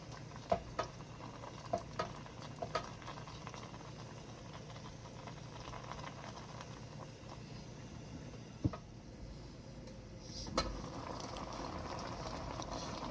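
Nigerian afang soup ingredients cooking together in a pot, giving a steady bubbling simmer with soft patter, a few light clinks and knocks on top and a slightly louder burst near the end.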